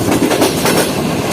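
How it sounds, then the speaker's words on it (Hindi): Karakoram Express passenger train running at speed through Balpur railway station at night, a loud continuous rumble and rattle of coaches with rapid wheel clatter, heard close from on board. "धुआंधार स्किप कर रही है ट्रेन इस बालपुर रेलवे स्टेशन को"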